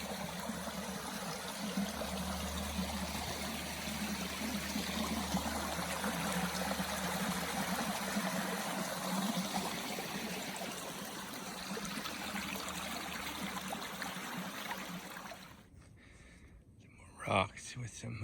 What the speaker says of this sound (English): nice little water source here this morning on the bridge